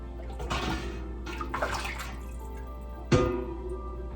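Pork broth drips and trickles through a strainer into jars in uneven bursts, with a louder splash near the end and a faint steady hum underneath.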